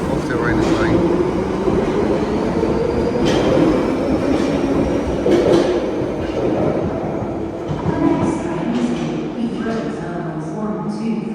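A London Underground Piccadilly line train pulls out of a station, its motor whine rising in pitch while wheels clatter over the rails, loud and close, with faint voices in the background.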